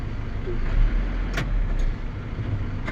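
Road traffic with cars on a street near Balintawak, a steady nearby rumble of engines with a few brief passing swells, heard throughout.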